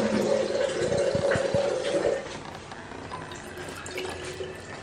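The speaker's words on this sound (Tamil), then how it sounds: "தண்ணி கால் கப்பு ஊத்துறேன்." Water pours and splashes into a container for a couple of seconds, then the flow stops and only faint background noise remains.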